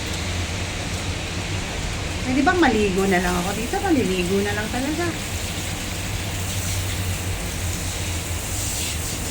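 Steady rain falls outdoors as a constant hissing wash, with someone speaking briefly over it partway through.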